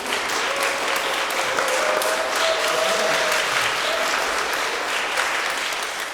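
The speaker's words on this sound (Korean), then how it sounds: "다 같이 박수 한번 칠까요?" An audience at a music salon talk claps together in a continuous, even round of applause that keeps a steady level throughout, with a faint hum running underneath.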